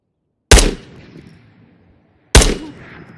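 Two loud, sharp gunshots from an unsuppressed M4 rifle in the video game Ghost of Tabor, about two seconds apart, each with a booming decaying tail.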